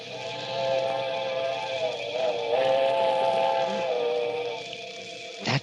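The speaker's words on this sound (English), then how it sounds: "that was it. The midnight train." A midnight train's steam whistle sounds in a radio drama on a cold night by a bridge, a long sustained wail with a steady hiss beneath it, moderately loud and unbroken.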